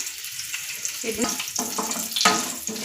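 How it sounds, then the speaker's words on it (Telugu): Cashews and coconut pieces fry in ghee with a continuous crackling sizzle, broken by short scraping stirs, near and fairly loud. "ఒక టూ స్పూన్స్ నెయ్యి అనేది వేసేసుకుంటున్నాను ఇందులో అయితే జీడిపప్పులు వేసుకుంటున్నాను అలాగే కొబ్బరి ముక్కలు"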